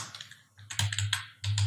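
Keys clatter on a computer keyboard while someone types a paragraph, quick irregular bursts of close, soft clicks separated by short pauses.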